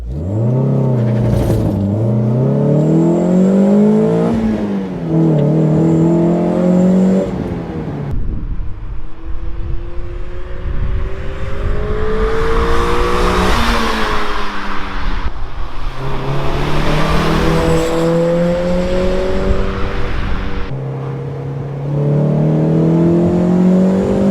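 A Mazda MX-5 NA sports car engine with a budget induction kit revs and accelerates loudly through the gears, close and continuous, with rising and falling pitch.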